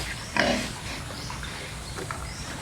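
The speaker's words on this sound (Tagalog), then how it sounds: "4 months na to itong mga baboy na to." Four-month-old pigs on a Philippine farm grunt quietly over a steady background hiss, with one louder grunt early on and softer snorts after.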